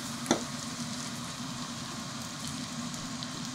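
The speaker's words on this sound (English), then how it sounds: "Now we'll add our pancake mixture into this pan and flatten it out a little bit." Okonomiyaki pancake batter sizzles steadily in a pan oiled with vegetable oil, a continuous close frying hiss with one brief tap near the start, no voices.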